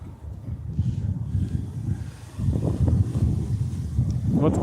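Gusting wind blows outdoors in Tokyo on a sunny day, a steady broadband rush that swells into a stronger gust about halfway through and stays loud and close to the microphone.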